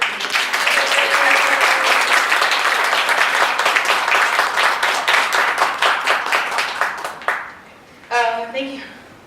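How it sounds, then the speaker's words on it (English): A lecture audience applauds the speaker at a university Islam Awareness Week talk, loud dense clapping that gradually thins into scattered claps and fades out, followed by a brief burst of voices and laughter. "Can I get one more round of applause for her,"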